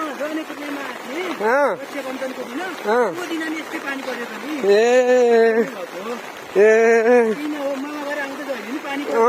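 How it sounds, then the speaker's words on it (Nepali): Heavy rain falls steadily at a rural village home in Shuklagandaki, Tanahun, a constant hiss underneath people talking loudly and close throughout. "यहाँ त डह्रो पानी परेको अवस्था छ"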